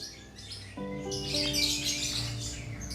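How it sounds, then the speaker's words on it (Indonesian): Lovebirds from a breeding stock chirp and tweet in a busy, overlapping chorus, close and fairly loud, with no talking. "manuk iki apik"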